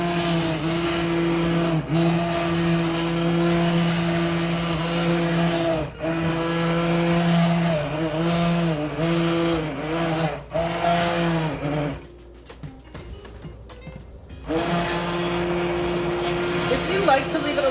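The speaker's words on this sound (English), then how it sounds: "You can use a blender, just do it in 2 parts" A blender purees hot tomato soup with a loud, sustained motor whine that dips and surges briefly several times, then drops to near quiet for a couple of seconds before the motor resumes at full strength.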